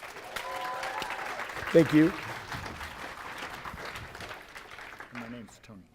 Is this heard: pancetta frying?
no